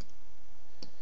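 A single sharp key click on a calculator keypad while values are typed in, brief and close against a quiet background.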